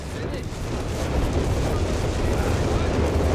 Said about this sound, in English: looks to be another artillery call in here by HeartlessJ